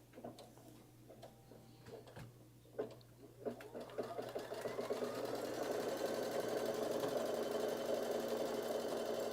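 Embroidery machine sewing placement stitches, starting with scattered taps and clicks before settling into a steady, loud, continuous mechanical whir of rapid needle strokes close by.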